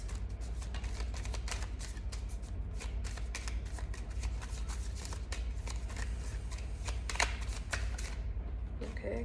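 Tarot cards are shuffled and drawn in a quick run of crisp riffling flicks and soft slaps, close and steady throughout, with a few sharper snaps near the end and no talk over them.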